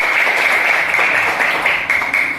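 Applause from a classroom group of teachers, a brief, dense burst of many hands clapping together at close range, with no talk.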